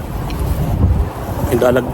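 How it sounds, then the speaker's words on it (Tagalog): Strong wind roars steadily across the microphone with a constant buffeting rumble, and faint voices come through underneath, strong enough to bring down trees. "Lakas ng hangin ngayon, grabe."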